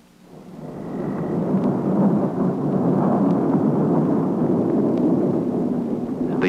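Thunder during a thunderstorm, a long low rolling rumble that builds within the first second and sustains steadily, fairly loud and alone without voices.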